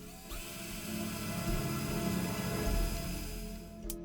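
A power drill whirs steadily for several seconds, close and loud, its pitch wavering slightly as it bores through plastic with a dull bit, then cuts off with a brief clatter at the end.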